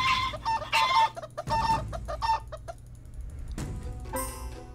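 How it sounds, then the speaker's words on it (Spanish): Black rooster enemy in a Kingdom Rush-style Eastern Empire tower defense game, crowing and clucking loudly in several bursts with layered game effects, then a brighter squawk near the end. "Un gallo negro."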